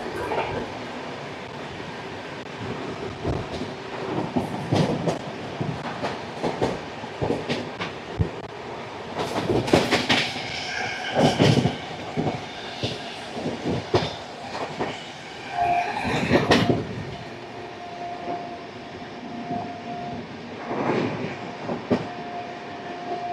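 A passenger train on a non-stop run out of Delhi at about 127 km/h rumbles steadily, with rhythmic clicks and clanks from the wheels on the rail joints and loud, bursty rattling throughout. No one speaks.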